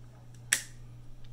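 The shutter of a Kodak Vigilant 4.5 folding camera being tripped, a single sharp close click over a low steady hum, with no talking.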